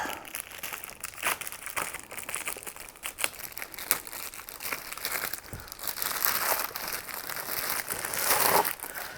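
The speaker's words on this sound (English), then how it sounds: "Might need some scissors for this, actually. Go and cut the bag off." Continuous plastic crinkling and crackling up close, with sharp snips and rustles as a bag is handled and cut open.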